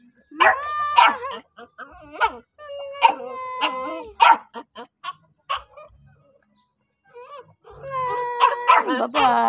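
Caged dog yelping and howling in short repeated bursts close by, with chickens and birds in the same enclosure and a person speaking between calls.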